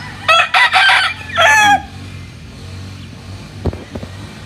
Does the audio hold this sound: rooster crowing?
yes